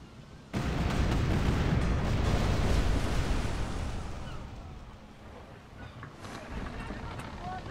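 Ship cannons fire cannonballs in the PC pirate game Tempest, a dense run of booming shots that starts abruptly and rumbles on loudly, then thins toward the end.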